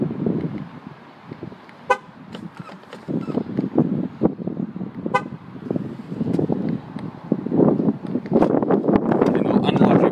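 A RAM 1500 Longhorn pickup gives two short horn chirps as it locks and unlocks by keyless entry, brief toots standing out over a busy outdoor dealership lot with wind and passing traffic.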